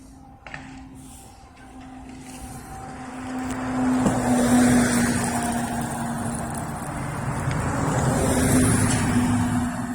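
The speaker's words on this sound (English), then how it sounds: "more Norfolk Southern trucks just showed up" Norfolk Southern trucks arrive at Kenney rail yard in Lynchburg, Virginia: a vehicle engine rumbles and grows louder as it approaches and idles nearby, with a steady tonal hum and outdoor ambience.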